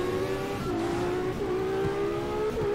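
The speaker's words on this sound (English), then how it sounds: "the fucking engine in general, what the fuck is that sound? Sounds like an F1 car." A video game car engine with a high, F1-style whine, revving in a sustained tonal drone that rises and dips in pitch as it accelerates, loud and close, running unbroken through the whole stretch.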